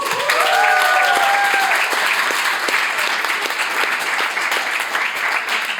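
A comedy show audience in a coffee shop claps steadily and loudly for several seconds, with a brief whistle near the start.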